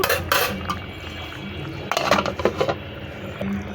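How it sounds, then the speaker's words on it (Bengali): Metal pot lid clanks and scrapes onto a cooking pot of Bengali fish curry, a few sharp clinks up close over a low kitchen hiss, no talking. "এখন আমি আরেকটু ঢাকনা দিয়ে ঢেকে তারপরে নামিয়ে নেব"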